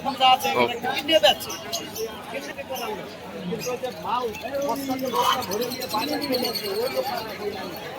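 Black Jack breed pigeons coo softly in low, repeated rolling notes while a person talks over them at a pigeon market in Bangaon, with light rustling and chatter in the background.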